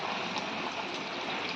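Water poured into a pan of browned, oil-releasing chicken cooking for a birista chicken dish, giving a steady, faint splashing trickle throughout with no voices.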